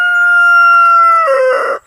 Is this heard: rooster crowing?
yes